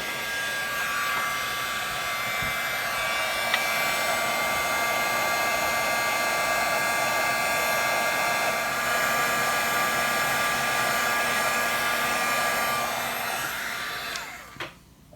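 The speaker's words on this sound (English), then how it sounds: "I like to use an embossing heat tool just because it is more direct" Embossing heat tool blowing hot air over a junk journal Christmas card, a steady, close whirring hiss that holds evenly for several seconds before cutting off at the end.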